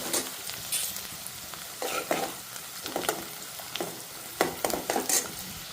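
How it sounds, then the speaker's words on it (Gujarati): Chilies and onions sizzle in hot tempering oil, with a steady frying hiss broken by repeated sharp clinks and scrapes of a spoon stirring the pan, close and moderately loud, with no talking. "તો આની અંદર મેં મરચાં ડુંગળીનો વઘાર કરી નાખ્યો છે."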